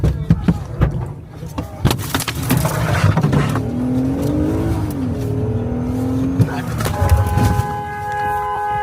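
A car accelerates and revs as it is driven at people, its engine surging over shouting voices and street noise, with a siren-like wail rising in the middle and sharp knocks near the start.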